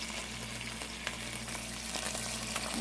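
Onions frying in oil in a pan for chicken fajitas, a dense, even sizzle up close with a few faint crackles and no talking.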